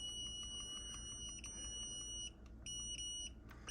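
A Mecity sous vide cooker gives a rapid run of short, high electronic beeps while its temperature is being set, a faint, close series of chirps in a quiet room.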